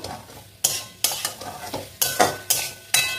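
Pointed gourd and potatoes hit a hot pan on high gas, sizzling loudly as a spoon scrapes and stirs in regular strokes, several sharp clatters punctuating a steady fry.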